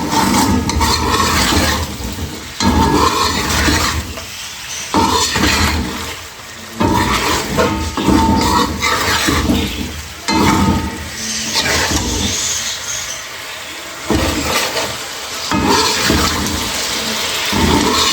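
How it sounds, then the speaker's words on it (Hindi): A masala mixture fries in oil in a pan, giving a steady, loud sizzle broken every few seconds by stirring and scraping bursts. No one speaks. "बस अब हम इसको अच्छा सा भून लेंगे इतना कि ये सब फ्राई करके फिर ऑयल आ जाए"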